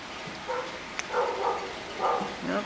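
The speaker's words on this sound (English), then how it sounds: "Nope, hear a dog" A dog barking and yipping a few times somewhere nearby, short sharp calls spread across a quiet, hissy room background.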